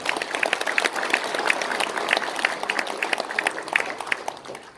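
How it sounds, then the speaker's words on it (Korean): Audience applause at a panel discussion in a press center, many hands clapping in a steady, lively patter that holds for several seconds, moderately loud, with no talk over it. "우리 조 교수님 위해서 박수 한번."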